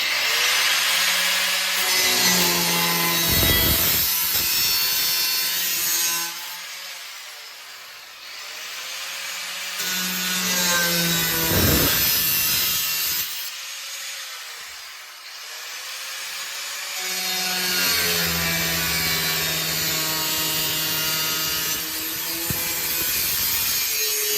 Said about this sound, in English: let's get the cutoff wheel and go bing, bing, bing, bing. 5 cuts and we're finished